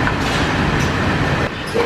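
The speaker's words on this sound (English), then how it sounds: "Here we are on the monorail." Steady rumbling ride aboard the Disney World Magic Kingdom monorail, a dense continuous interior drone with a brief dip near the end; no voices.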